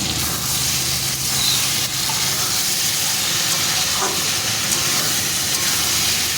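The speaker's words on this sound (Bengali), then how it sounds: "এবার আমি ভেজে রাখা পকোড়াগুলো দিয়ে দিলাম।" Fried pakoras tossed into chilli chicken in a hot pan give off a loud, steady sizzling hiss that runs unbroken, with no voices.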